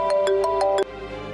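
An electronic phone ringtone plays a rapid series of bright, repeating tones, loud and close, with a steady melodic pattern.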